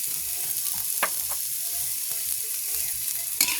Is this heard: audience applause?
no